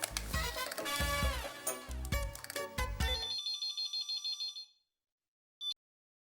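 A telephone rings as a call is placed in a comedy sitcom scene. A bright electronic melody plays, then a string of steady pulsing tones fades to silence, and one short beep follows alone.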